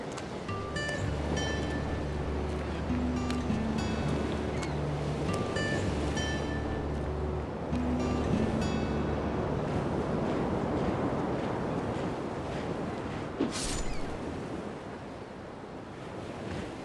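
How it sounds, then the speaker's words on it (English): Ocean waves wash onto a beach in a continuous loud roar of surf with wind buffeting the microphone, while tonal musical notes sound faintly beneath the rushing water. "I love to spend time alone at the beach."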